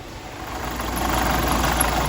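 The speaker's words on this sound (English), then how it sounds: "this is now the X Trail running" A Nissan X-Trail with starting problems idles at close range, a steady, slightly rough engine drone that holds constant and fills the whole moment with no voices.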